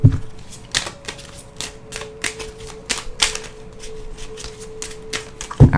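Rapid crisp riffling of tarot cards being shuffled in short bursts, several quick flicks in a row, close and fairly loud with a faint steady tone underneath.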